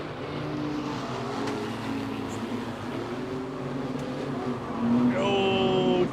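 Speedway race cars roar into a corner on the green light, a steady loud engine drone with a commentator talking over it and a rising engine whine near the end.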